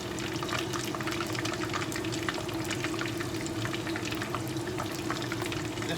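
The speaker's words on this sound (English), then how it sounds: "now we're going to keep on frying our chicken wings" Chicken wings frying in oil, a steady close sizzle and crackle with dense popping that holds evenly throughout, with no voices.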